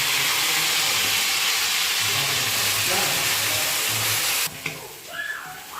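Onion dropped into hot oil with whole spices in a pan over a wood-fired clay stove, a loud continuous sizzling hiss that cuts off abruptly near the end, followed by quieter crackling.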